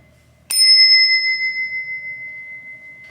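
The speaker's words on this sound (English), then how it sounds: "We'll see what happens in motion and what the bell sounds like." A handpainted Crane Suzu bicycle bell from Japan struck once, with a bright, clear chime that rings on and slowly decays over a quiet background.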